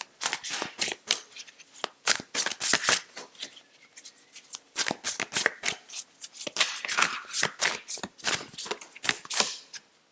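Moonchild Tarot cards are shuffled close up in rapid bursts of crisp riffling and slapping, with brief pauses between runs and no voice.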